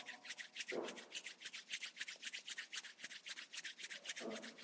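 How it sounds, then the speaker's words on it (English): Palms rubbing briskly together in a quiet yoga room, a fast steady swishing rhythm of repeated strokes that stays close and fairly soft throughout. "rub your palms together"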